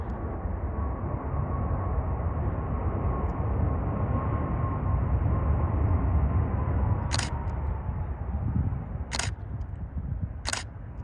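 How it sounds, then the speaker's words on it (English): A Southwest Boeing 737 MAX 8 arriving on runway 30 left at San Jose airport gives a steady, moderately distant jet roar, with a few sharp camera-shutter clicks near the end. "next up we have a Southwest 737 MAX 8 arriving from Las Vegas International Airport"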